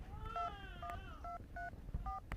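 Keypad tones beep as a phone number is dialed, several short electronic tones in quick sequence, fairly close but quiet, with faint background noise.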